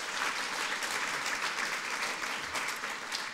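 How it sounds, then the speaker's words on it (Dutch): A seated audience at a Dutch talk show applauds, a dense, steady wash of many hands clapping together at moderate loudness with no voices over it. "Applaus."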